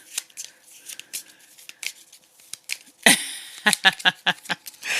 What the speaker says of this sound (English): I get to draw a card, which I have to shuffle my deck for